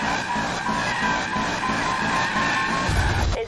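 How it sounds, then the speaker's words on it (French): Car tires spinning and screeching at the start line of a drag race in the Need for Speed video game, a sustained, loud, high squeal over a throbbing engine rumble that deepens briefly near the end. "fais patiner tes pneus pour les amener à la température qui leur donnera un maximum de grip"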